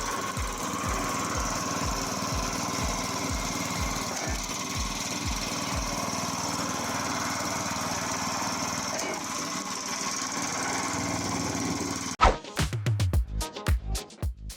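A portable HL Uni 7.5 log shredder runs with a steady machine drone and rapid regular knocking strikes, then sharp irregular cracks and bangs burst out near the end, loud and close, with no voices.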